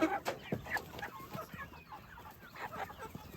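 Chickens cluck in a clearing at an off-grid homestead in the woods, with a steady scatter of close, fairly quiet clucks and chirps and no voices.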